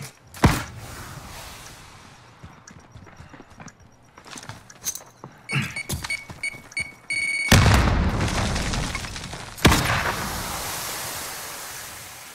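A grenade goes off during a Search and Destroy match in Call of Duty Modern Warfare, producing loud booming blasts with a sudden low-heavy burst and a rumbling tail, mixed with scattered clicks and gunfire-like pops.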